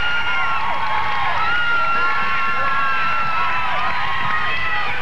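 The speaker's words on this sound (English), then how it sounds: "Now you can see the crowd getting into it" A crowd cheers and shouts steadily through a 1994 high school regional wrestling final at Great Bridge, Virginia, with whoops and voices layered over the continuous din.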